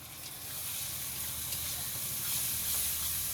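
Green chillies fry in hot oil with a continuous sizzling hiss, steady and close, gradually swelling slightly louder toward the end.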